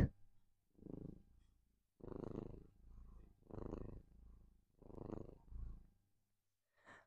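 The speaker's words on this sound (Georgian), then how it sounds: "ხრუყუნი გესმით" A cat purrs softly and close by in slow, steady cycles, each rumbling breath rising and falling about every second and a half.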